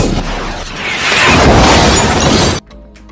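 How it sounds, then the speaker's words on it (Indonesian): A loud, roaring missile explosion with a rumbling, crashing blast that swells, sustains for a couple of seconds, then cuts off abruptly. "sebuah pasukan tiba-tiba menembakkan misil ke arah mereka"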